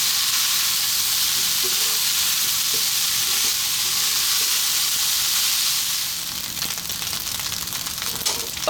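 Pumpkin fried rice fries in a hot pan, giving a loud, continuous sizzle. The hiss eases a little toward the end, when stirring scrapes and clicks come through.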